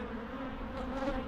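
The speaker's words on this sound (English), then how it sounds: "That end hive's got a lot of drones." Honeybees and drones hum steadily at an opened hive during an apiary check, a faint, continuous close-up buzz with no talk.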